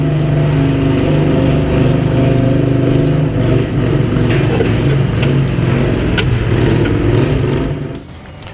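A quarter-scale tractor engine roars loudly and steadily at a student tractor pull competition, a sustained nearby drone that fades slightly near the end.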